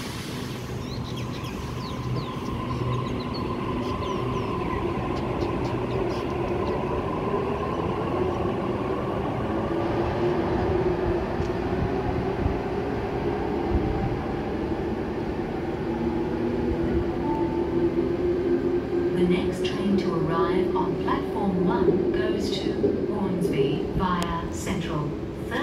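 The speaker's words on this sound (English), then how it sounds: "Terminating bound metro approaching platform number 2" Metro train pulling into a platform at Chatswood station, a long rumbling approach with whining tones that shift in pitch, moderately loud, with a station announcement voice and other voices over it.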